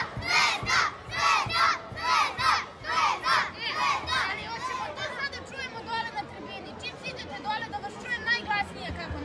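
Crvena Zvezda supporters in the stands during a match against Ludogorets chant in loud rhythmic bursts, then dissolve into crowd shouting, cheering and chatter from many voices nearby.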